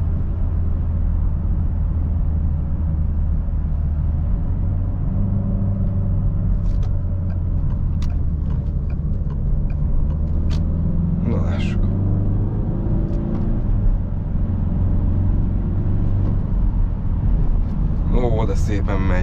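A 2011 Peugeot 508 SW estate with the 1.6 e-HDi diesel, 112 hp, drives steadily. Heard from inside the cabin, there is a constant low engine and road rumble with wind noise, and a few faint clicks.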